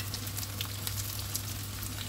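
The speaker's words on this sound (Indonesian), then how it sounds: "Kita tumis bersama-sama" Onion and celery stalks sizzle steadily while stir-fried together in a pan, a close, even crackling hiss with no talk.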